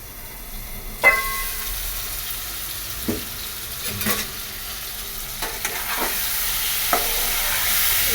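Potatoes fry in a pan with a quiet, continuous sizzle while a utensil scrapes and stirs them in a handful of short, scattered strokes.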